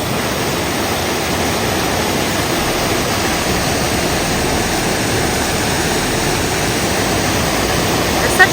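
Lick Log Falls pours in a steady, full rush of broadband water noise, close and constant with no pauses, on a forest trail.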